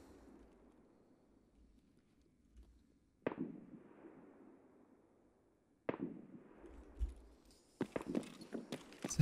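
Distant gunfire in Escape From Tarkov: two separate muffled booms with long rolling echoes, then a quick cluster of sharper shots and clatter at the end.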